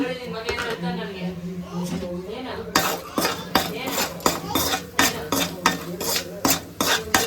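Masala stirred and fried in butter in a pan for egg curry, sharp rhythmic scraping and clinking of a spoon over a light sizzle while someone talks throughout.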